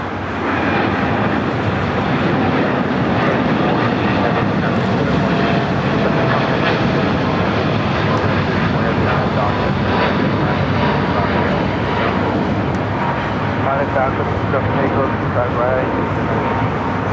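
An Antonov An-124 cargo aircraft takes off at LAX with a loud, sustained jet-engine roar that fills the whole stretch without letting up.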